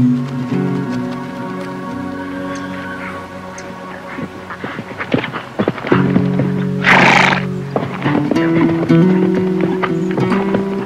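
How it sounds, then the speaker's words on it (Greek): A horse gives a loud, close whinny partway through, with hoof clip-clops and scattered dripping, rain-like taps before and after. "Όταν φτάσαμε, έφτανε και ο πατέρας Μακάριος με το άλογο του"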